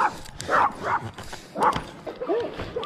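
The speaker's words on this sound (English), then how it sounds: "Little Chihuahua gang out here." Several small Chihuahuas bark and yip in quick bursts, close by outdoors on a hiking route in Ohio, with a voice talking between the barks.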